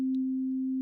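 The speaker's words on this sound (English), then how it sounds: "when we just have our normal sine wave" A plain, steady sine-wave tone holds at one pitch for under a second, clean and unwavering, with only a tiny faint blip near the start.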